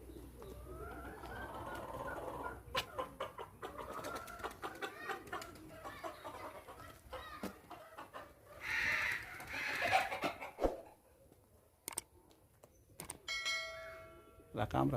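Chickens cluck and birds call in a bird garden in Qarshahir, a busy mix of short clucks, cooing and chirps at moderate distance, with a few sharp knocks and brief voices.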